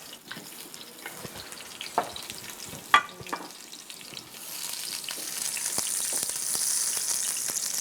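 Chopped onions tipped into hot oil in a pan: scattered clinks and stirring knocks at first, then a loud, steady sizzle swells up and holds to the end, with no talking.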